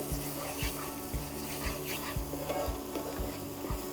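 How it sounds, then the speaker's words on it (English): Food stirred slowly in a pan as it cooks down and darkens, a steady scraping with regular soft strokes about every half second over a continuous low sizzle, close and fairly quiet. "So now we keep going and keep stirring around 5 to 8 minutes."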